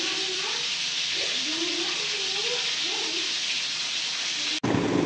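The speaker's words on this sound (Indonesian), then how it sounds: "Angin dicampur sama hujan," Strong wind mixed with rain roars in a steady, loud wash around a village house, with faint voices murmuring underneath, before the sound cuts off abruptly near the end.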